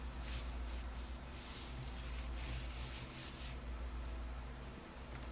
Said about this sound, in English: Just burnish that really, really good.